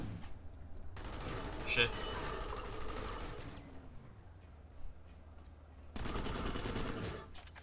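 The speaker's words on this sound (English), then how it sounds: "they're shooting me" Bursts of automatic gunfire in the video game PlanetSide 2, loud rapid fusillades in two long stretches with quieter gaps, while a player speaks over them.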